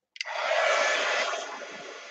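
A hair dryer switches on abruptly and blows a steady, close, loud whoosh to dry freshly painted fingernail polish, the airflow easing slightly toward the end; no talking.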